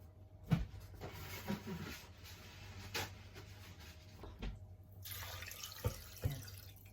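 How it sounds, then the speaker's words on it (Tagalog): Water pouring into a cooking pot of shrimp sinigang, a steady splashing stream with a few clinks and knocks, close and fairly quiet. "Lagyan po natin ng"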